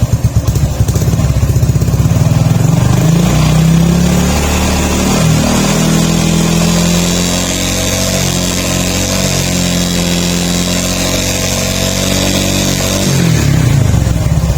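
A loud Honda RS125 Fi motorcycle engine held at high revs, a steady droning roar that wavers slightly in pitch before easing off near the end.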